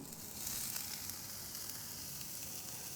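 Razor-thin onions frying in oil on a griddle give off a faint, even, continuous sizzle and crackle, with no voices.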